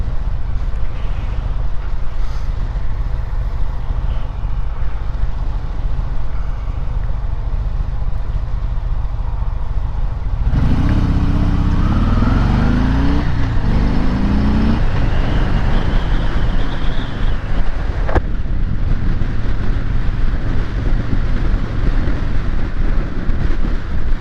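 A 2018 Harley Davidson Sport Glide being ridden, with a steady roar of wind buffeting the microphone and a low engine rumble that surges louder partway through as the bike accelerates.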